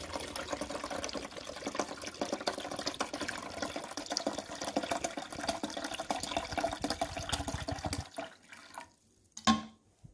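Water pours steadily from a container into the reservoir of a Keurig K-Duo 12-cup coffee maker during descaling, a continuous splashing rush for about eight seconds that then stops, leaving a few faint drips and a clunk.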